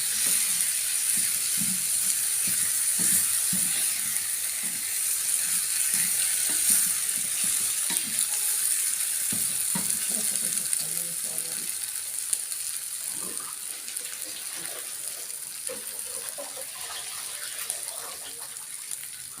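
Onions and rice being stirred together while frying in a pan, ahead of gizzards and liver going in: a steady bright sizzle fills the clip, broken by soft scraping and clinking strokes of the stirring, with faint background sound.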